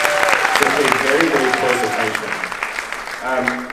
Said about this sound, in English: give Jessie a big round of applause.